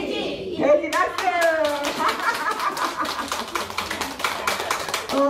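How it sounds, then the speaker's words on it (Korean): A group of older adults does a rhythmic clapping exercise during a dementia-prevention cognitive activity class, with steady, fast, close hand claps running throughout over talking voices. "돼지 박수."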